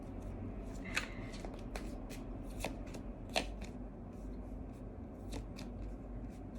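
Tarot cards being shuffled and drawn, a soft continuous papery riffle with several sharper flicks and snaps standing out over a low room hum, no talking.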